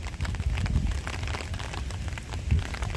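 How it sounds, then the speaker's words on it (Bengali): Rain falls at Khandoli Dam in Madhupur, Jharkhand, during a windy spell. A soft, steady patter runs throughout, with low wind rumble and a couple of brief gusts against the microphone. "এখনো বৃষ্টিটা পুরোপুরি থামেনি, ছাতা নিয়েই ভিডিও করছি"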